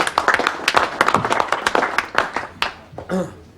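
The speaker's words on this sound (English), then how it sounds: "I'd like to hear a nice big warm round of applause, please, for Norman Penfold and his squeeze box." A small audience gives scattered, uneven clapping for an accordion player, with bursts of claps that taper off and a voice speaking toward the end.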